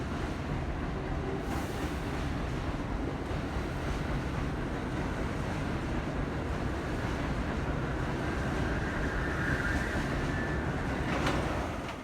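A New York City subway 1 train rumbles steadily through the elevated 125th Street station on the Broadway viaduct, a loud continuous roar of wheels and cars with no talking.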